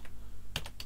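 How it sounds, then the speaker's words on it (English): Typing on a computer keyboard at a Raspberry Pi 3 setup: a short burst of three crisp key clicks near the end, preceded by a faint earlier tap over a steady low hum. "I'm literally typing it out old school."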